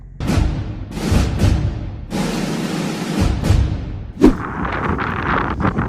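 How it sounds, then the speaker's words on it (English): Strong wind buffets the microphone outdoors beside a 2024 Ford Mustang, in loud, gusty rushes with low rumbling bursts and a brief thump, steady throughout. "It's very windy out here, I'm sorry."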